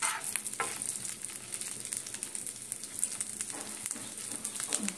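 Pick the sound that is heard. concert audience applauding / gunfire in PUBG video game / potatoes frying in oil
potatoes frying in oil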